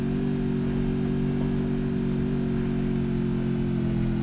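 A car engine in the battle-royale game Free Fire drones at a steady, loud pitch, holding a constant mid-range hum throughout without clear revving changes.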